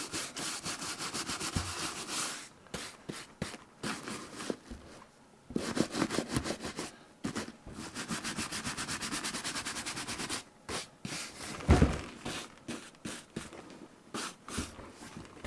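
Brush scrubbing a leather boot with soap suds, quick back-and-forth strokes in bursts with short pauses, close and fairly loud, no talking.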